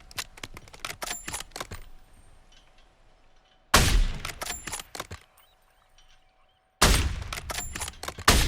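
Sniper rifle gunfire in a solo video game sniping match comes in loud bursts of sharp cracks with brief gaps, then falls quiet before further volleys resume, with no talk.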